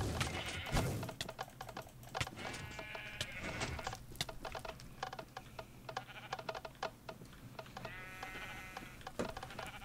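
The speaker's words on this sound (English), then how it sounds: "Now it's hard to lead sheep without wheat." Sheep in the video game Minecraft bleat repeatedly in short, nasal calls, several near and loud, layered over rapid clicking taps and a steady low hum.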